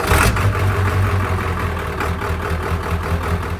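An abandoned OBS Ford 7.3 F250 truck, restored after sitting five years, runs with a loud, steady diesel engine rumble close by. The tone holds even throughout with no one talking.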